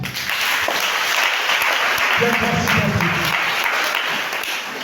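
A church congregation breaks into steady, loud applause that fills the room without letup, with a brief murmur of voices partway through.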